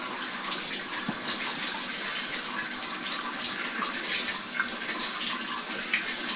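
Water gushes steadily into a newly installed clothes washer as it fills, a dense, continuous rushing hiss at close range with no pauses.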